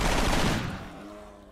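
A loud, dense burst of rapid gunfire in the video game RimWorld rattles and then cuts off, leaving a fading ringing tail.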